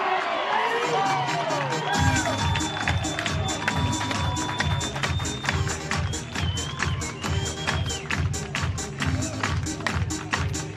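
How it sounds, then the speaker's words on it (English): A crowd at a college baseball championship tournament cheers a leadoff home run, a loud sustained roar with shouting and a steady pulsing rhythm running through it. "Crowd's loving it."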